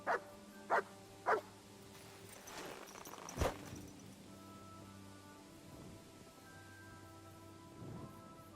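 A dog in the game Kingdom Come: Deliverance II gives three quick, sharp barks in the opening second, over a steady wash of rain, with a single louder crack a few seconds later.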